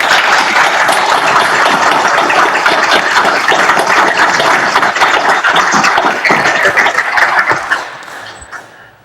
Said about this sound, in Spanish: Aplaudamos vuestro logro.